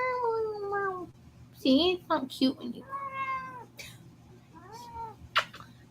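A pet cat, a dramatic white cat, meows repeatedly in drawn-out, wavering cries up close, with someone talking over and between the calls indoors.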